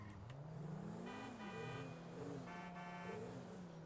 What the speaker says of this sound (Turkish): Şimdi o bize korna çalıyor biz ona korna çalıyoruz.